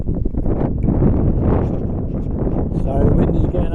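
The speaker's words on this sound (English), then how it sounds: "So the wind is getting up, guys, sorry about that" Outdoor wind buffets the microphone in Gloucester, a continuous loud, gusty roar that swells and dips over the whole stretch with no voice standing out.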